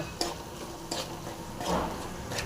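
Raw mango thokku pickle stirred in a pan with asafoetida, a few soft scraping strokes of the spoon against the metal over a faint sizzle, quiet and close.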